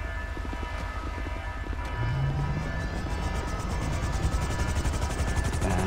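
A military helicopter in GTA V: rotor thumps steadily under a droning engine hum, with game-like mechanical noise swelling slightly partway through.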